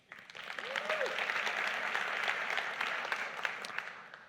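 An audience claps in a hall, a dense even patter that swells quickly and holds steady, moderately distant, with scattered louder claps over the crowd.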